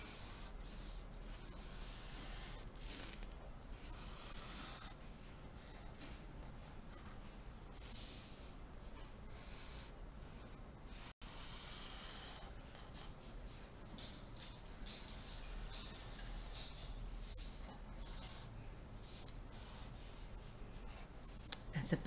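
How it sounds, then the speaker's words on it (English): A pen or pencil drawing a triangle on paper, heard as a steady, quiet scratching and stroking that runs for about twenty seconds with no talk, close and faint. "So I'm going to go ahead and try to draw my own triangle here."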